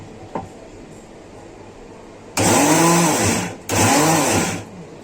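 A mixer grinder running in bursts while making rice kheer, two loud whirring pulses of a couple of seconds each with a short gap between them, after a brief quieter lead-in.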